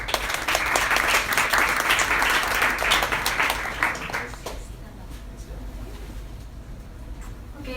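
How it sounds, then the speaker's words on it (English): Crowd applause for a speaker at an energy sustainability talk, loud and dense at first, then thinning out and fading to a low murmur. "let's give a big round of applause for our first speaker"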